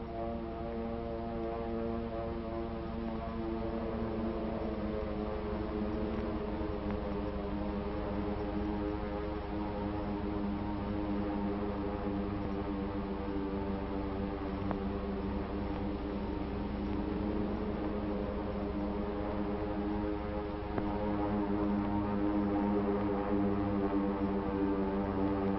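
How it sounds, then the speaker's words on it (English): A steady, droning hum of propeller aircraft engines holds throughout, even and continuous with layered low tones and no voices. "the drone of planes was faintly heard"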